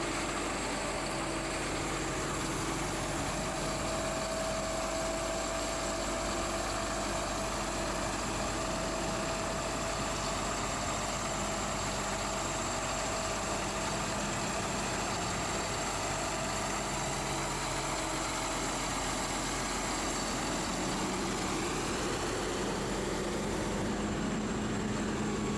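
A New Holland T8 Tier 4 tractor engine drones throughout while driving, a continuous low rumble with a faint high whine, like heavy machinery running at a constant pace.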